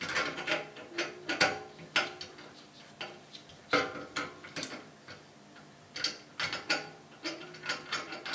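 Screws are tightened while a HyperCube Evolution 3D printer's Z carriage is assembled: a close series of quick ratcheting clicks and ticks arrives in uneven bursts with short pauses between them.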